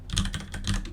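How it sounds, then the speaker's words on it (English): Rapid keystrokes on a computer keyboard while typing code, a close, quick run of clacky taps with no talking. "So I'm going to start by typing letters.map."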